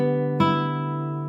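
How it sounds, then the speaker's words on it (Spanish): Classical guitar with a single plucked note ringing out over a sustained chord, the attack landing near the start and then decaying slowly. It is close and fairly quiet, and no one speaks. "Voy a tocar un arpegio ascendente."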